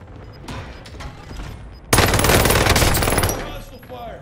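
In a Call of Duty Warzone match, bursts of automatic gunfire rattle out loudly after some quieter distant shots, a dense sustained fusillade lasting about a second and a half before tapering off.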